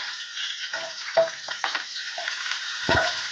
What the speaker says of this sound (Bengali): প্রথমে আমি মরিচ দিয়ে দিচ্ছি, সেই সাথে পেঁয়াজ দিয়ে দিচ্ছি